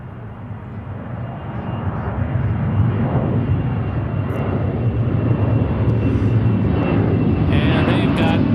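An Alaska Airlines Boeing 737-900 jet roars at Seattle airport, a broad loud rumble that swells and holds steady, close and continuous.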